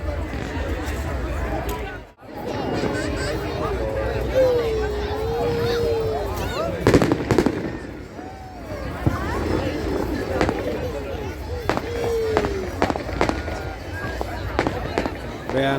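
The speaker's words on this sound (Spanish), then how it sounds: "Como pueden ver, aquí hay fuegos artificiales" Bonfire Night fireworks at a small community event in the UK, sharp bangs and crackles bursting repeatedly over a steady crowd murmur, with people talking close by throughout.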